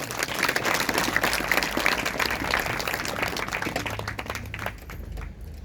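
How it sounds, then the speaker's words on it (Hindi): A church congregation claps loudly and steadily during a Sunday service, with dense, fast hand claps that ease off slightly near the end over a low background tone. "से भी जोर से ताली बजाएं।"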